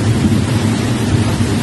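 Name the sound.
hurricane storm with rain and strong wind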